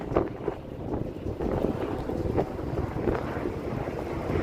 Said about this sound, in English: Now here comes the wind.